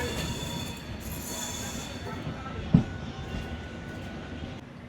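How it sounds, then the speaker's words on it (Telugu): Vivek Express passenger train pulling out of Kanyakumari, a steady close rumble of rolling wheels and car noise with a faint metallic squeal and a sharp knock partway through, no talking. "మన ట్రైన్ కన్యాకుమారి నుంచి అయితే బయలుదేరిపోయింది"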